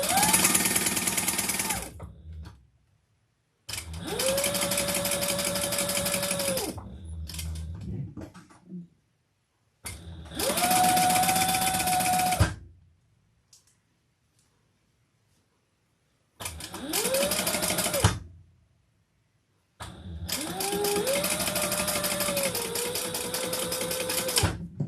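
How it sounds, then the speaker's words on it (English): A sewing machine runs in bursts, basting fabric for a shoulder bag: about six loud whirring runs of a few seconds each, separated by near-silent pauses, with the motor pitch rising and settling in each run. "So basically just basting it together."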